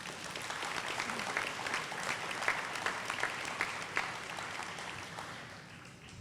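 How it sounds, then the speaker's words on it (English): A crowd at an elementary school ribbon cutting ceremony claps for several seconds, a fairly distant, steady wash of applause that slowly fades toward the end. "Give yourselves a huge round of applause."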